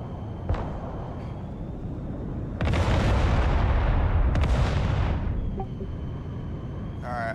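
Artillery fire in the video game Broken Arrow, a sharp distant crack followed by heavy rumbling booms and rolling blasts over a low steady battlefield drone.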